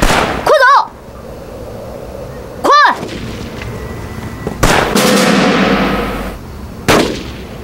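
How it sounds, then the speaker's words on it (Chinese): Gunfire in a wartime village battle scene: sharp, loud shots and bursts come at irregular intervals, a few seconds apart, with a rumbling, echoing tail between them. "这枪声越来越紧了，再等会儿我们就跑不掉了。"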